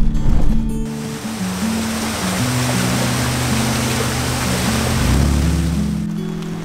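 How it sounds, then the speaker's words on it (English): Rushing water roars steadily from a waterfall at Clear Creek Hot Springs, with a low engine hum running underneath throughout. "if you look on your left, there's yet another waterfall"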